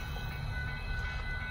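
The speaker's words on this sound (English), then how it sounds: "After this train goes by," A northbound Union Pacific rock train rolls past a road crossing in Austin, Texas, with a loud, steady rumble and rattle of loaded cars close by, with no voices.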